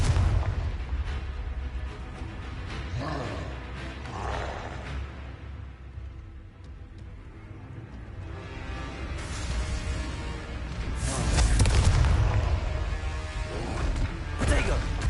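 Repeated Confringo fire spell explosions in Hogwarts Legacy crash and boom in uneven bursts, with a loud rumbling impact near the end over a continuous game soundscape.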